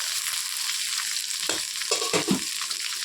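Onions and green chillies with cinnamon, cloves and bay leaf fry in a pan for chicken biryani, a steady sizzle with a few spoon stirs scraping through the middle, close and alone.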